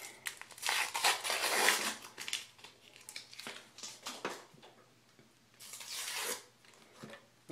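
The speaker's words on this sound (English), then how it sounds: "Comes in this foil wrapper. So we're just going to unwrap it a little bit here." Foil wrapper crinkles and tears as it is peeled from an Arko shave stick, with several bursts of crackling separated by short pauses, close up and alone.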